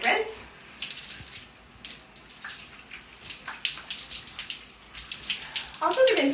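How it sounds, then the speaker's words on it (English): Water from a running tap splashes while a clay face mask is rinsed off, a soft steady trickle with uneven splashes, close and fairly quiet, with a brief louder splash near the end. "Quick rinse."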